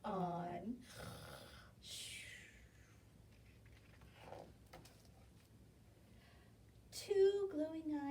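A voice imitates a bear snoring, with a few drawn-out breathy snores under a storyteller's reading, then a brief tonal sound near the end.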